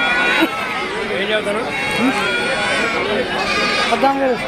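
Young male goats bleat repeatedly at a crowded goat market in Andhra Pradesh, short nasal cries overlapping with constant chatter and background crowd noise.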